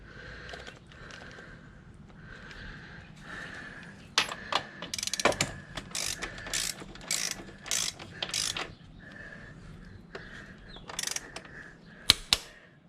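A torque wrench ratchets a bolt tight on a Yamaha WR250R motorcycle during factory lowering work, making close, bursty clicking strokes with short pauses between them and a sharper final click near the end.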